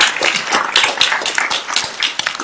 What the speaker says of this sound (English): you clap for us